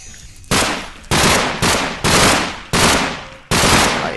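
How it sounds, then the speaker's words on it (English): AK-47 firing in a video game, six loud close bursts of automatic fire, each starting abruptly and decaying, spaced about half a second to a second apart. "AK-47 is not the most accurate of weapons with the recoil"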